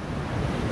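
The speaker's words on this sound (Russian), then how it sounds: "еще одну волну подождем" Sea waves break on a Crimean shore in January, a close, steady wash of surf with wind noise over the microphone and no voices.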